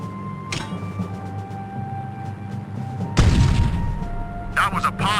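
A grenade explodes in Full Spectrum Warrior, a sudden loud blast partway through that rolls into a broad crackling rumble, with another burst of crackle near the end over steady battlefield ambience.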